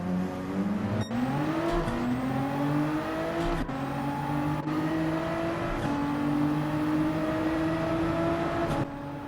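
A race car engine in Gran Turismo 7 screams at high revs and climbs through the gears, with sharp breaks at each shift, loud and close throughout.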